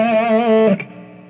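An electric guitar plays a pentatonic blues rock lead with slight distortion, holding a vibrato-laden bent note and then a brief pick attack before the sound fades, close and alone.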